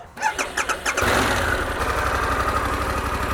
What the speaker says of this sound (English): All right, we're gonna turn the bike on.